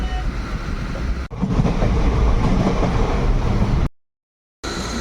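A local train that has just left Payradanga station rumbles loud and close in a steady clatter, then briefly cuts out before resuming, with no voices.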